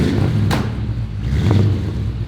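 A 1962 Chevrolet Impala with an exhaust leak idles and rumbles close by, the low engine note steady with a couple of sharp puffing bursts from the leak.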